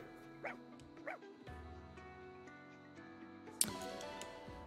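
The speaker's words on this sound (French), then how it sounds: "Oh le chien noir!" A black dog in the Fire Emblem Engage video game gives two quick barks near the start, then a softer yip, set against calm game music with chiming tones.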